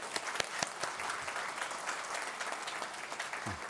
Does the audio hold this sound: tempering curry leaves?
no